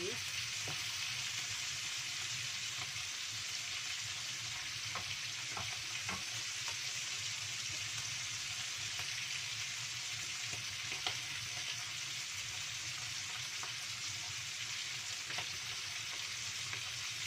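Salted fish stir-fries with spices in hot oil, giving a continuous close sizzle with occasional sharp spatters and scraping stirring strokes, steady and moderately quiet with no voices.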